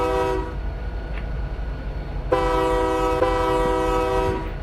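Canadian Pacific locomotive horn in the video game RO-Scale Sandbox: one short blast, a pause, then a longer steady chord-like horn note held for about two seconds over a low engine rumble.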